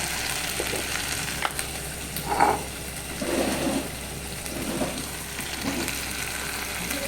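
Food frying in a pan is stirred, giving a steady moderate sizzle broken by a few scraping strokes of a spoon across the pan.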